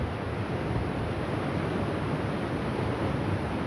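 Rain falling on a tarp outdoors: a dense, even hiss of steady rainfall with no distinct drops standing out, continuous and moderately loud, no voices.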